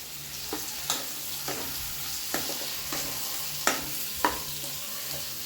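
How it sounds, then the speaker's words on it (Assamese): Onions with cut boiled potatoes frying in a pan give a steady close sizzle, broken by repeated spoon stirs and scrapes at an uneven rhythm, with no voices. "পিয়াজখিনি অকমান ভাজি হোৱাত মই বইল আলুখিনি কাটি থোৱাত তাত দি দিম"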